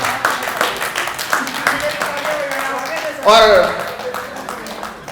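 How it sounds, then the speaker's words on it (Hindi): Clapping from the audience at an Uttarakhand poetry festival, a short burst of hand claps mixed with a voice speaking over it, followed by a brief louder swell. "इस बुलंदी के लिए जोरदार तालियां होनी चाहिए"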